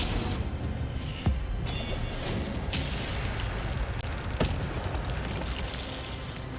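Spell blasts in Hogwarts Legacy, with the Incendio fire spell among them: a dense, continuous roar of game effects punctuated by sharp booming pops near 1.3 and 4.4 seconds, loud and close, with no talking.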